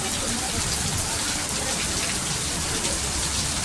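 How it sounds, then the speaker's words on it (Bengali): Heavy rain pours down outside during a monsoon-like downpour in Puri, a dense, steady roar of drops on surfaces that stays loud and unbroken throughout. "বাইরে বৃষ্টি পড়ছে"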